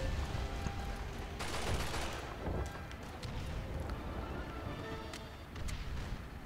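In Call of Duty 2: Big Red One, rapid bursts of game gunfire and battle noise play at a modest level, with a dense continuous clatter of shots through the whole stretch.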